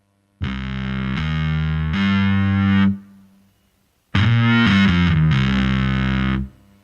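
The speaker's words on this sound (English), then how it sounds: "just threw some distortion, bit of distortion on there leading into this heavier part" Heavily distorted electric guitar plays thick, sustained chords in a heavier section of a song, two loud phrases separated by a brief pause.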